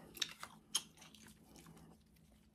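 Quiet, close chewing of boiled mussels, with a few sharp crunchy clicks and bites over soft mouth sounds.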